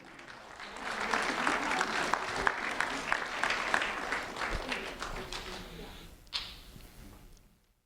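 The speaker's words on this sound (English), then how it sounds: "a round of applause for Devin Riches" A crowd applauds steadily for a fifth-grade student honored by a county sheriff's office, dense clapping sustained for several seconds before tapering off, with a brief louder burst near the end.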